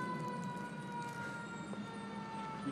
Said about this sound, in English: Now there's a siren.